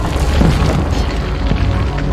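Rolling thunder from an attacking army, an audio drama effect, forms a loud, continuous deep rumble with heavy booming low end that fills the whole moment without letting up.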